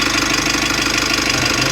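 The engine of a 2023 Mitsubishi L300 idles after a turbo replacement, a loud, close, steady rhythmic rumble with an even, regular pulse and no talk over it.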